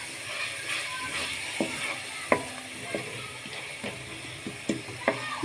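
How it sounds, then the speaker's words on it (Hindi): Spices fry for a dhaba-style cauliflower sabzi, a steady close sizzle throughout, broken by sharp clicks and scrapes of stirring at irregular intervals. "मसाले को अच्छे तरीके से आपने भूनना है।"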